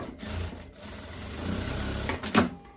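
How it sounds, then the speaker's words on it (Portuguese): Sewing machine stitching the lining of a linen dress, a close mechanical whirring run with brief stops and restarts and a sharp clack near the end. "vou costurar ela aqui"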